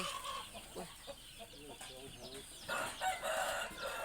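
Startled chickens in a backyard flock cluck in short bursts, then a rooster crows near the end, moderately close, while people talk quietly in between.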